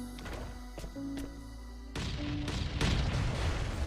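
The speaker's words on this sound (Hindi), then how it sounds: "मैं जल्दी से इस वाले वॉल को पे भी बम लगा के जल्दी से तोड़ देता हूँ" In the survival game Last Day Rules Survival, a bomb blows up a wall, and a sudden loud blast gives way to a dense, rumbling crash and roar that carries on over a background of game music, with no speech.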